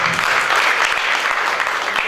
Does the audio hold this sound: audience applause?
yes